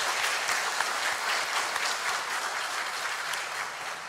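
A church congregation applauds steadily together during an anniversary thanksgiving service, producing a dense wash of clapping that holds for about four seconds and eases slightly at the end.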